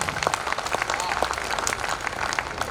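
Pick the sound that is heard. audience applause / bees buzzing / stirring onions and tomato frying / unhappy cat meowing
audience applause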